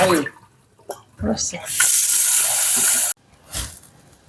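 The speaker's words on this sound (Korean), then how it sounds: "오크라 이제 데쳐서 물에 헹궜어요" Cold tap water runs and splashes over blanched okra being rinsed in a kitchen sink, a steady close hiss lasting a second or so between short handling noises.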